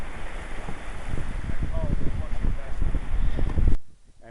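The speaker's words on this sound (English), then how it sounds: "When we're pounding into the waves out in the middle, it keeps slowing us down" Sailboat running under spinnaker offshore, hull slapping and pounding through choppy waves with steady wind rush across the microphone and low rumbling thuds, loud and close, ending abruptly.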